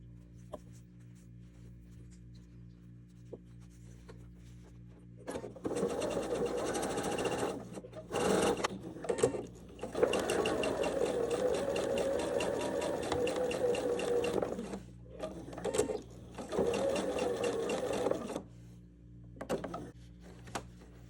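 A sewing machine stitches a fabric cuff in long motor-driven runs, starting after a quiet lead-in, pausing briefly between bursts of rapid needle chatter, loud and close with no voices.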